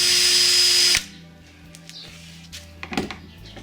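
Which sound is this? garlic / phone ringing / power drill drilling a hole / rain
power drill drilling a hole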